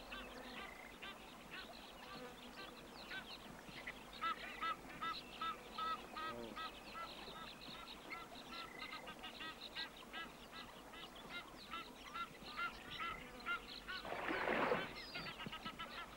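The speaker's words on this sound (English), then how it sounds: "The Egyptian goose spots the danger." An Egyptian goose at a waterhole in Etosha honks repeatedly over a long stretch, the calls fairly faint and distant with other bird sounds around, building to a louder burst near the end.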